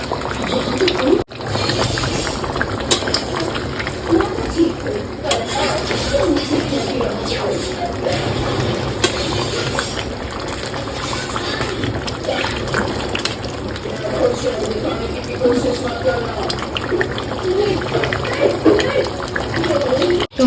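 Thick crab curry gravy simmers in a pan to reduce, with a continuous soft bubbling and popping texture, close and fairly steady over about twenty seconds.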